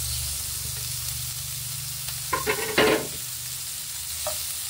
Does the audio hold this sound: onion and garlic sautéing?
yes